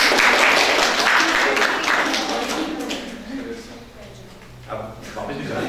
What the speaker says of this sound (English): Please a round of applause for Mustafa.